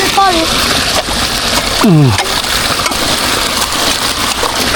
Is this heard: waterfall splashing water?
yes